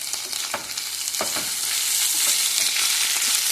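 Grated beetroot and onion sauté with coriander powder in a hot pan, giving a steady close sizzle with a few scraping stir strokes across it.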